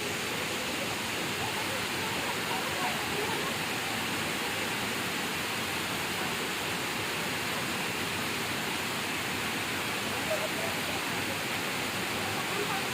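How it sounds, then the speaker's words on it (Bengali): Bamni waterfall roars as a steady, dense broadband rush of falling water, close and constant throughout with no breaks; occasional voices blend faintly into the roar. "এই যে এইটাই হলো বামনি ঝর্ণা"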